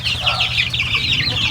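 Several chickens and chicks cluck and chatter continuously at close range, a busy overlapping flock sound with a low rumble underneath.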